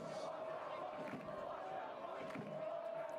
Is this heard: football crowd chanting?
yes